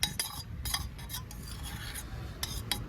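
A utensil stirs milk and saffron into paneer butter masala in a pan, producing soft scraping and occasional light clinks in a steady rhythm, close but fairly quiet, with no speech.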